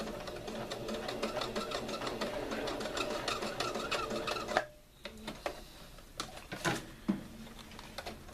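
A sewing machine stitches fabric with a fast, steady mechanical rattle for several seconds, then stops, leaving only a few faint handling clicks and knocks nearby.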